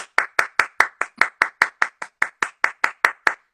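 One person claps for the actors of a Coriolanus stage production, about fifteen close, sharp handclaps in an even, steady rhythm with silence between them.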